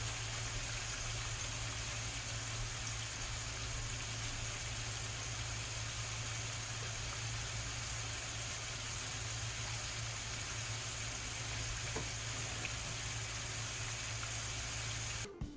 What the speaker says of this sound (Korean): 잠시 치킨 튀겨지는 소리 듣고 가시죠